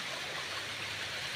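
A waterfall and stream at a camping spot among mahogany trees pour steadily, giving a dense, continuous rushing of water close by with no voices.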